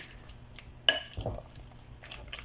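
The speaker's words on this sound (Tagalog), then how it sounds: "Then mix ulit hanggang na makot yung pumpkin ng ating butter." Mashed pumpkin is mixed with butter in a bowl, with one sharp clink of a utensil against the bowl and then softer scraping and stirring sounds nearby in a quiet room.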